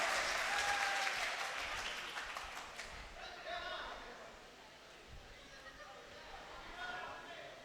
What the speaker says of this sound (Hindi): एक बार जोरदार तालियां सारे लोग मिलकर बुलाएं